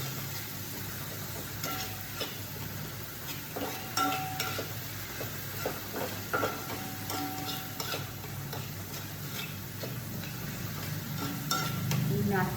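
Masala frying in oil in a kadai while being stirred, a constant low sizzle with repeated scraping and ticking spoon strokes against the pan, close and fairly quiet.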